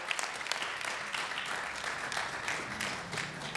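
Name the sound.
press conference audience applauding sailor Sébastien Simon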